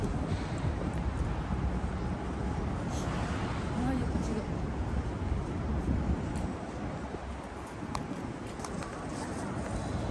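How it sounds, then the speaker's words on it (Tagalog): Constant strong, cold wind roaring across the microphone outside a Chinatown entrance in Japan, a dense, unbroken rush of noise, with faint background sounds beneath it. "Malakas ang hangin."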